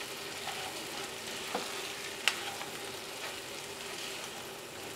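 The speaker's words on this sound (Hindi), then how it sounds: "भिंडी डाल के हम मसाले में एक बार अच्छे से मिला लेंगे।" Okra stirred into masala in a hot pan gives a steady close sizzle of frying, with a few soft scraping clicks from the stirring spoon and no talk.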